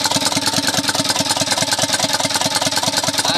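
An Isuzu Elf truck's 4HL1 diesel engine, running again after repair of burnt wiring and the computer box, idles with a steady, rapid, evenly pulsing clatter up close and with no voices.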